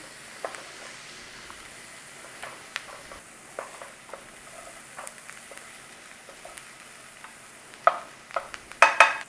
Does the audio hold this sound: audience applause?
no